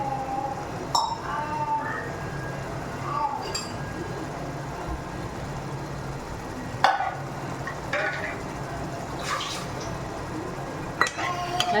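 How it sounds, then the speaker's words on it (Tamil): Tamarind water is stirred into a simmering jilebi fish and potato curry in a pot, with a steady sizzle and spoon scraping, plus occasional clinks against the pot. "நல்லா கலந்துக்கலாம்."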